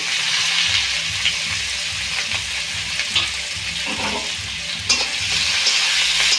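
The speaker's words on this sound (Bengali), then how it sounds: "তেল গরম হয়ে গেছে পেঁয়াজ কুচি দিয়ে দেব" Chopped onions sizzle in hot oil for a lote fish jhuro, a steady loud frying hiss with a faint rhythmic low thumping beneath, no voices.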